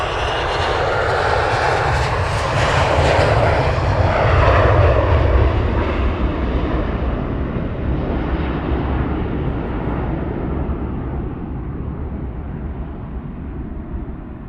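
A departing airliner at Luton Airport roars loudly and steadily for the whole stretch, its broadband jet rumble slowly fading and losing its upper hiss as the plane climbs away.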